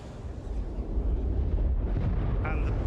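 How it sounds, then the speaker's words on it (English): A huge explosion in the Star Citizen game roars as a dense, sustained low rumble with crackling debris, loud and enveloping, with a faint voice underneath. "And the explosion itself."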